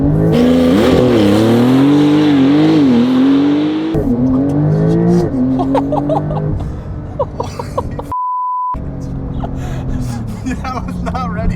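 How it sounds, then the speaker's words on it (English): A Porsche 992 Turbo S launches hard under launch control, its engine roaring loud and close as it climbs through rising revs with quick gear changes, followed by a brief tone and quieter cabin sound with a voice reacting. "let's launch this thing, shall we?"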